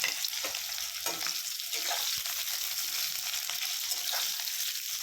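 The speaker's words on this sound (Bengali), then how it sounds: "এবার আমি সেই তেলের মধ্যেই মানে আলু ভাজার তেলেই দিয়ে দেবো পেঁয়াজ আর তেজপাতা" Onions and bay leaves crackle and sizzle steadily in oil left from frying potatoes, the frying hiss constant and bright with occasional spoon scrapes through it.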